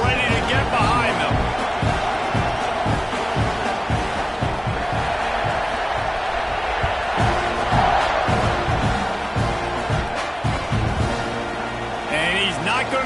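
A packed football stadium crowd at a UM vs T&AM game roars and cheers just before kickoff, a dense, loud, continuous wash of voices with whoops and shouts rising throughout, while a commentator's voice sits beneath the din.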